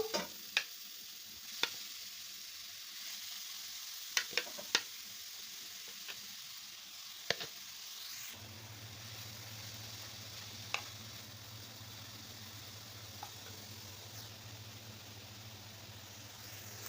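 Onions fry in a single spoonful of oil, a faint, even sizzle with scattered utensil ticks, joined halfway through by a low steady hum.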